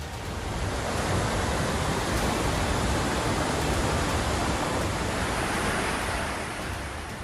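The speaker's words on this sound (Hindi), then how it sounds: "ये भागीरथी की सहायक नदी है। देखिए बरसात में इसमें कितना पानी है।" Swollen tributary of the Bhagirathi river in monsoon flood, roaring as a dense, continuous broadband rush of water that swells in and holds loud throughout.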